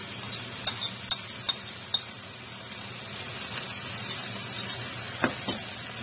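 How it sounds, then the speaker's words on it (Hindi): Chopped chili peppers frying in a pan for a Korean beef spaghetti sauce, with a steady low sizzle and a few sharp clinks of a utensil stirring against the pan. "अब इसमें हम डालूंगी चॉप की है फ्राई मिर्ची।"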